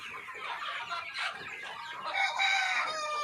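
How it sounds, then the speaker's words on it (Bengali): Sonali chickens on a poultry farm, a flock of thousands, fill the air with overlapping clucks and squawks, close and continuous, with shrill rising calls standing out near the end. "এখানে মুরগি আছে বর্তমান মোটামুটি 2550 পিসের মতন।"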